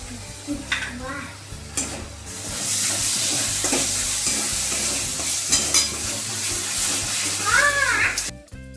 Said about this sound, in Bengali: মতে করে আমি এই টক দই, লঙ্কা গুঁড়ো আর হলুদ গুঁড়ো মিশ্রণটা দিয়ে দেবো